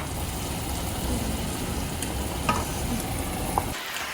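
Squid frying in oil in a pan, a steady close sizzle that cuts off abruptly near the end, with a couple of faint clinks.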